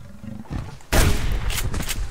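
A single loud shotgun blast in the Subsistence hunting game booms near the start of a second, aimed at a cougar, followed by a rumbling roar-like tail after a quieter stretch of faint low sound.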